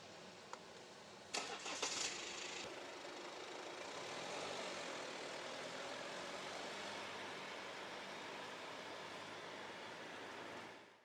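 An Alfa Romeo Stelvio 2.2-liter turbocharged four-cylinder diesel cranks briefly and catches, then settles into a steady, muted idle that runs on quietly until the sound cuts off.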